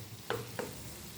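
Masala fries in a pan while a spoon stirs it, two quick scraping strokes over a faint, low sizzle, heard close and quiet.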